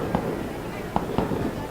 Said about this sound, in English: The fireworks continue on in the distance.